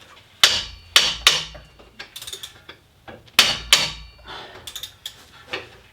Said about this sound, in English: I'm just going to put a cheater bar on it so you guys can watch it break loose from this terrible angle I have.